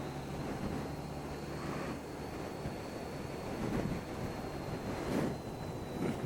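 Wind buffeting the microphone on a moving motorbike carrying a rider and a teenage passenger, a continuous broad roar with gusty surges and no speech.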